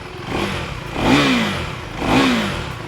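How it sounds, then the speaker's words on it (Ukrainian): A 2024 Husqvarna Svartpilen 401 motorcycle engine revs up twice in a row, each rev rising and falling over a steady idling rumble, close by and loud. "Мені здається, навіть двигун чути більше, ніж вихлоп"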